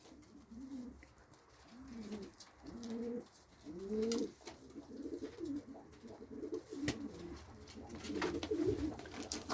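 Pigeons in a coop coo repeatedly in low, throaty phrases while eating scattered feed, with faint rustles and taps in the background.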